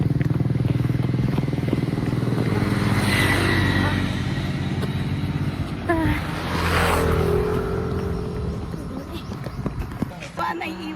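A motorcycle passes by on a street, its engine drone swelling loud and close and then fading, while people talk throughout.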